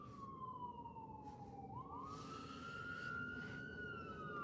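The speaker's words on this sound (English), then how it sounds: "Uh-oh, ambulance. So, ambulance is in a hurry to go somewhere." An ambulance siren wails past on a street in Florida, its tone sweeping and then dropping in pitch as the vehicle goes by at a moderate distance over steady traffic rumble.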